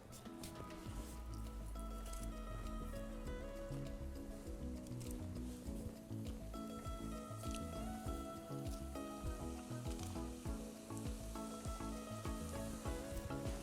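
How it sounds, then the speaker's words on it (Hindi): Paneer cutlets frying a second time in very hot oil, a dense steady sizzle and crackle running throughout, close and fairly loud, with soft bubbling and occasional utensil clicks. "उसके बाद तेल को पूरा गरम कर लें, एकदम सुपर हॉट, और फिर दोबारा डाल दें।"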